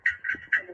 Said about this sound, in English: this is the sound of a robot underwater at the bottom of a pool.